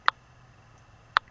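Geiger counter in background radiation during radioactive rain in Toronto gives two sharp isolated clicks about a second apart over a faint low hum, with no talk.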